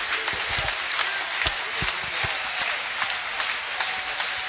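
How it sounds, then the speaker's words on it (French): Rugby supporters applaud in the stands at a Castres Olympique season presentation for players and the 2017-2018 jersey, a steady wash of clapping from a large crowd with a few sharper claps standing out. "les supporters applaudissent"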